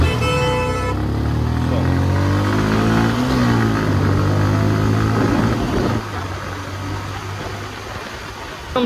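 A motorcycle rides up onto National Highway 12, its engine droning loud and close with shifting revs and rushing wind, then settling into a steadier, slightly quieter hum after about six seconds.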